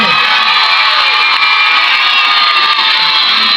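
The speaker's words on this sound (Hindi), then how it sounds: "बॉयज आप लोग एक दफा शोर करके दिखाओ इनको कैसे शोर करते हैं" Boys at a school result function shout and cheer together, a loud dense wall of young voices whooping and yelling continuously, close and sustained with no pauses.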